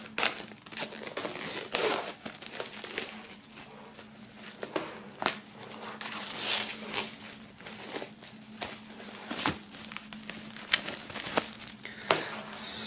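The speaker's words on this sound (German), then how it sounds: "vorab machen wir mal das Plastik ab" Plastic shrink wrap peeled and crinkled off a vinyl record, a run of close crackling and tearing rustles in irregular bursts against a quiet background.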